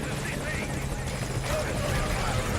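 A video game helicopter hovers close by with a loud, steady rotor thrum and engine whine, while radio-style game dialogue plays faintly beneath it.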